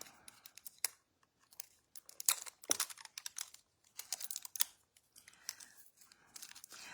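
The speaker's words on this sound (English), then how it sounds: "I'll try with the scissors." Scissors snip and cut through craft packaging in short, irregular bursts, with crinkling and tearing between cuts, close and fairly quiet.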